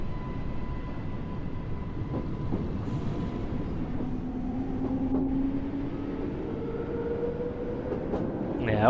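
A modern train unit running on the Great Western route in Train Sim World, a loud steady rumble with a rising and falling motor whine and a few clunks from the track.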